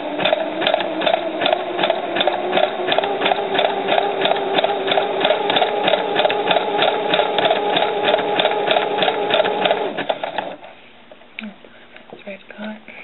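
A sewing machine stitching with curled fishing line runs in a steady, rapid mechanical rhythm for about ten seconds, then stops abruptly, leaving quieter handling sounds and a voice.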